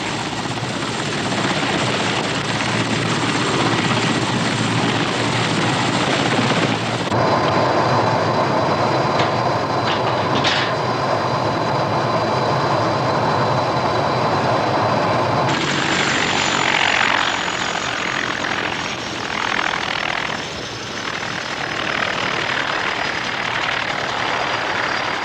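Steady, loud helicopter rotor drone with a whining engine on a flight into the Russian Arctic, continuous for the whole stretch, its tone shifting slightly partway through as if the cabin sound changes.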